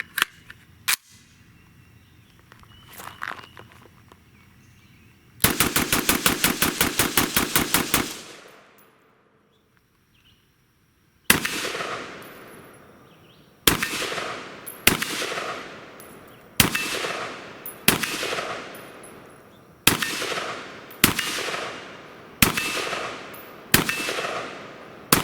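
A Sig Sauer 556 rifle fires a rapid magazine dump as a dense string of sharp, loud shots, followed by about ten more single shots spaced roughly a second apart, each ringing out and decaying outdoors.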